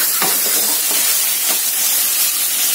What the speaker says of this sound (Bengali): আমি মশলার সাথে ঝিঙ্গেকে ভালোভাবে কষিয়ে নেব।